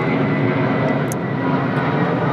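A jet airliner comes in to land on runway 3 left at Sydney Airport, its engines giving a loud, steady roar throughout.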